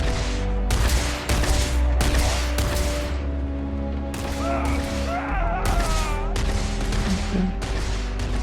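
Repeated bursts of gunfire from a sci-fi shooter game, Starfield, during a firefight with a stronger weapon, loud volleys separated by brief gaps over steady background music and game sounds.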